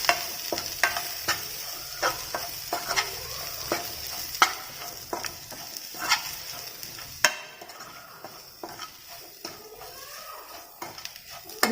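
Sweet corn being stirred with cumin powder and chaat masala in a pan, a spoon scraping and tapping against the metal in irregular clinks over a faint sizzle, close and fairly quiet, with no talking.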